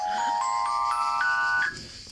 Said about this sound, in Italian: i telefoni che suonano.